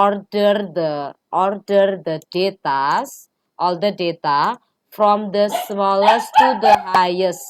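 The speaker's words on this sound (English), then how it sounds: "sorry for the dog's voice." A dog's yips and barks come from the background while a person speaks continuously in the foreground during a mathematics lesson, the barking mixed in under the talk toward the end.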